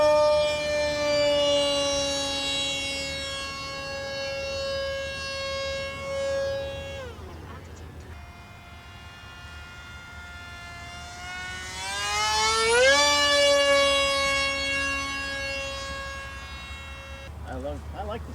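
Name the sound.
RC plane Hobbyzone AeroScout propeller in flight, Scimitar prop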